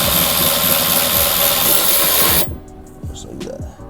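Power driver spinning off a sway bar fastener on a BMW E46 M3 during a coilover install, a loud steady whir for about two and a half seconds that stops abruptly, leaving quieter clicks and handling noise.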